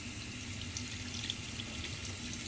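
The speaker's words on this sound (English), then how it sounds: "Make sure the water passes through." Tap water runs through a deglutition measuring tube, giving a steady, fairly faint trickling stream with small splashy glints and no voices.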